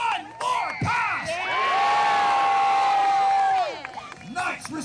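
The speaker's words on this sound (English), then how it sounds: "And the crowd goes insane." Spectators at a medieval jousting tournament cheer and whoop, swelling into a loud sustained roar with a long held shout before fading, amid scattered voices and yells.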